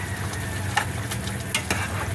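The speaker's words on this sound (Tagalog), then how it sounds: "Yan po ay kumukulo na po" Pork adobo bubbling in a covered pot, a soft steady simmering hiss with a few faint pops and clinks over a low hum, no talking.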